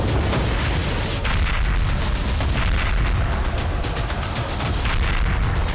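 Bomb blast aftermath in Mastung, Balochistan, where a petrol pump was blown up: a loud, dense roar of rumbling booms and crackling fills the whole stretch without pause, close and heavy.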